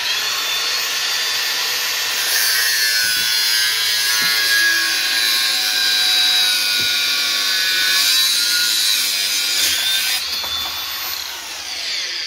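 A Makita power tool cuts through metal sheet for a heraldic shield with a continuous loud, high whine held steady for about twelve seconds, with no talk over it.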